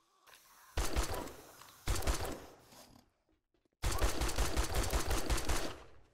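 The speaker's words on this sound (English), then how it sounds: "I'm going to shoot it and get its attention" Gunfire in the survival game 7 Days To Die, three loud bursts of rapid shots, the first two short and separated by a brief lull, then a near-silent gap before a longer sustained volley, close and dominant with no talk.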